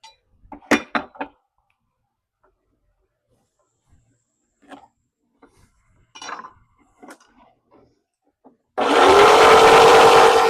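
A power saw cuts oak pieces for a small napkin holder. A few light taps and knocks of wood handling come first, then the motor bursts on loudly near the end as a steady, whining buzz.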